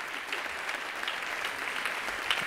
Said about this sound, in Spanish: Vamos a llamar a Juan Herrera, que tampoco es de los que sube al escenario para recibir aplauso, pero hoy lo va a recibir.